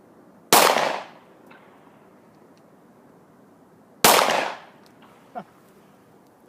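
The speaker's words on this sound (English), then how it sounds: "it took 2 shots, got it with the second shot" Two sharp, loud pistol shots ring out from a Smith & Wesson Shield, about three and a half seconds apart, each followed by a brief echoing decay and a faint metallic ping.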